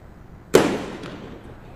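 A single firecracker bang bursts out loud and close, then decays into a rolling echo at an outdoor cricket premier league match.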